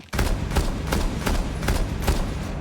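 Semi-automatic DMR rifle shots hammering a barricade in Rainbow Six Siege, about six loud, evenly spaced reports fired at a steady rhythm over low background rumble, with no talking.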